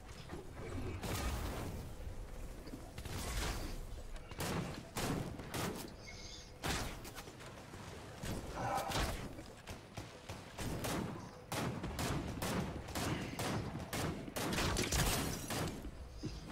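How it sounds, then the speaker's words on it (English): Gunfire in the video game Fortnite: rapid, sharp shots and bursts repeat steadily across the stretch, loud and close, with a few sparse slam-like impacts mixed in. "Now who's shooting at me?"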